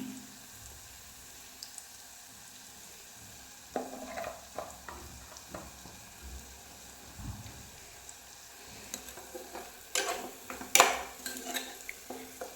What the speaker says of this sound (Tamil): இப்போ இது வதங்கட்டும்